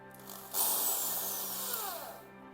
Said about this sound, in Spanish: Taladraremos el tapón justo en el centro.